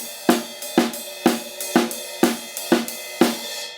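Slow drum pattern played on a drum kit without bass drum, snare hits landing together with crash cymbal strikes in a different pulse for a song's solo intro, seven evenly spaced loud accents with ringing cymbal wash between.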